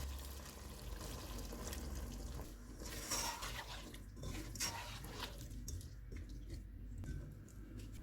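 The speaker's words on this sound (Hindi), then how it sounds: "आधा कप पानी डालेंगे।" Half a cup of water is poured into a pot of keema matar pulao on the stove, giving a steady splashing and sizzling wash of liquid with a few louder splashes, close and continuous.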